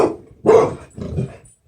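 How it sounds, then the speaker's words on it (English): A dog barks loudly and close by, two or three sharp barks in quick succession with a slight growl, no one speaking. "Please pardon my dog."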